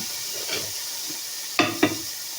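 Raw chicken, about a quarter kilo, hits hot oil in a pan and gives two sharp sizzling bursts near the end after faint stirring, with no one talking.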